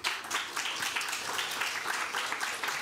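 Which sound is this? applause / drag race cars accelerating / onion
applause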